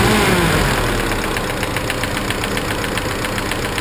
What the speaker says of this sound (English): Got a little tappet noise.